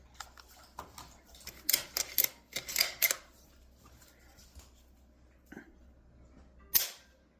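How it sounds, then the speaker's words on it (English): Savage Axis rifle trigger clicking sharply as it breaks during a Wheeler digital trigger pull gauge test, with a cluster of crisp, close clicks near the start and one more after a pause, in a quiet room. "So I have my Wheeler digital trigger pull. We're going to test this right now."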